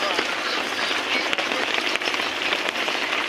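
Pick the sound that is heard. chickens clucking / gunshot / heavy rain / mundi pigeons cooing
heavy rain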